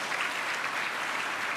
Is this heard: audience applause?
yes